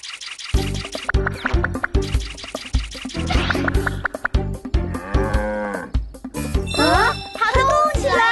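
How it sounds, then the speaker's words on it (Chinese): A cartoon water buffalo moos in loud, drawn-out calls while it runs, with thumps and jingling over busy music and children's voices. "动起来吧，水牛！"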